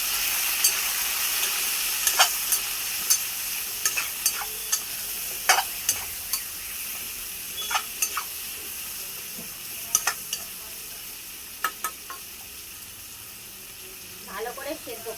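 A spiced mixture with turmeric and chili powder sizzles steadily in a pan, with regular clinks and scrapes of stirring over a constant hiss.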